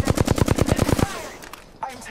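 Enemy team gunfire in the video game Apex Legends: a rapid automatic burst of about ten loud shots in the first second, then quieter scattered game sounds.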